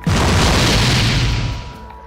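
A single loud booming shot fired at an enemy in Roblox Blox Fruits, a broad blast that rings out and slowly fades over two seconds.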